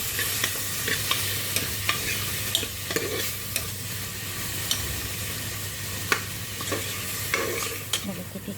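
Tomatoes frying in a pan for urad dal, a soft continuous sizzle with intermittent scraping and tapping of a spoon as they are stirred, fairly quiet and close.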